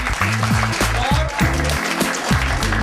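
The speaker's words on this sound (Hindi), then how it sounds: "पहले में आगे कमल के लिए ताली बजा दीजिए बेटा" Clapping for a student at a welfare educational society gathering in Chamba, a quick burst of many hands with sustained voiced tones sounding through it.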